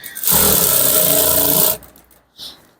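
A sewing machine runs in one loud, close burst of about a second and a half stitching Ankara fabric along a woven line, then stops, followed by a brief faint noise.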